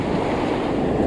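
Ocean surf on a Long Island beach during late fall surfcasting, a loud continuous wash of breaking waves mixed with wind rumble on the microphone, no voices.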